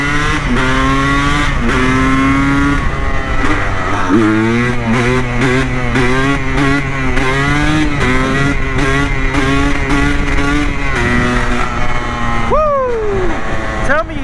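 A two-stroke motorcycle engine revs hard and loud, its pitch climbing and dropping through repeated bursts of throttle and gear changes, with a person whooping over it.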